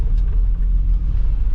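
A car passes on a residential street near curbside garbage, a steady low rumble of engine and tires that fills the clip without voices.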